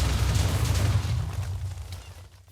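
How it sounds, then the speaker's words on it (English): A basic explosion spell goes off in the video game Tensura, a loud, deep rumbling blast that rolls on briefly and then fades out, with no talking. "it looks like I can just instantly cast at least basic level explosion with like no extra build up"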